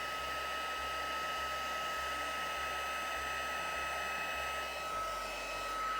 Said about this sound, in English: Get our heat gun warmed up.